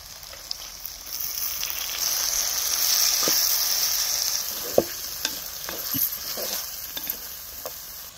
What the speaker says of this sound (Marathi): ही तुरीची डाळ एक अर्धी वाटी का नाही 10 मिनिटं भिजत घातली होती. आता ही ह्यात ओतायची.